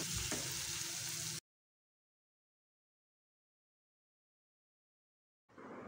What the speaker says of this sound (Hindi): बस अब हम कीमे को फ्राई कर लेंगे